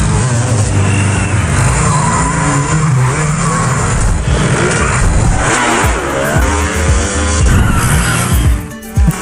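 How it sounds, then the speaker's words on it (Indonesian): A KLX motorbike race in an Indian film scene, with loud, continuous engine revving and accelerating whine, rising and falling pitch, and occasional skid-like squeals under a busy, mixed soundtrack. "Rahul mencoba mengelabui mereka dengan mengajak balap motor menggunakan motor KLX-nya itu"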